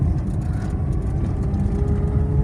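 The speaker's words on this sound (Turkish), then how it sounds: "Gaza bas bakayım. Gaza bas bas bas." A car engine driven by a learner on the road, a steady loud low rumble with engine drone throughout, no talk.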